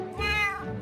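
A cat in the Minecraft game gives a single clear, close meow, drawn out and slightly falling, with no talk over it.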